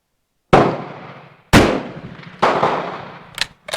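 A K31 Swiss rifle fires three loud, sharp shots about a second apart, each with a decaying echo, followed by a few quick metallic clicks.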